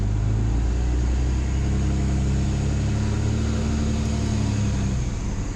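A power rake machine running steadily on a lawn, a loud, continuous low engine drone with a constant tone throughout and no talking.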